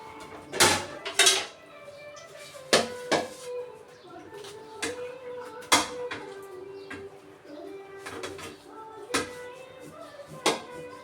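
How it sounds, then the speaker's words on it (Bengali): Plates and pots washed by hand at a home sink, with irregular sharp clinks and clatters of dishware knocking together, spaced a second or two apart, against a faint steady background. "এই থালা বাসন কয়টা ধুয়ে নেব সুন্দরভাবে"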